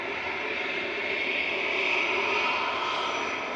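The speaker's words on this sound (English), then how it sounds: "EasyJet is mega loud in front of us." EasyJet jet airliner passing close by at Manchester Airport, a loud, dense engine roar that swells slightly at its peak and stays strong to the end, with no talking.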